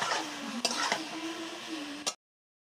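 Chicken skin frying in oil is stirred in a pan, giving a close, steady sizzle with a few sharp scraping clicks from the utensil before it cuts off abruptly.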